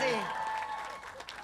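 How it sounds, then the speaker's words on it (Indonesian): Applause from the audience at an Indonesian talent contest or comedy show, a dense wash of clapping under tonal voices and music, fading slightly over a brief moment. "Beri tepuk tangan sekali lagi untuk Serdadu."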